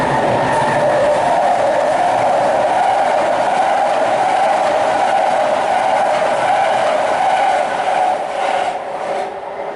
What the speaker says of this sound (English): I can hear the BART train coming.